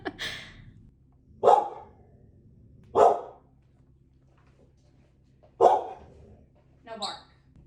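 Izzy, a pet dog, barking indoors in a few separate loud single barks spaced a second or more apart, the last one softer and yelpier.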